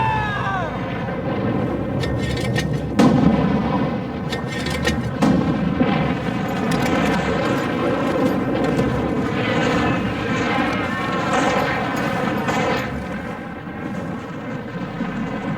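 Artillery fire in a Korean War documentary, heard as heavy booms and reports over a dense, continuous roar of battle noise with an aircraft-like drone throughout.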